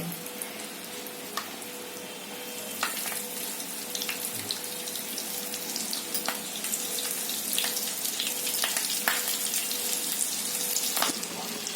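Green chilies frying in hot oil for a spicy masala chili dish, a steady close sizzle and crackle with sharp pops scattered throughout and no talking.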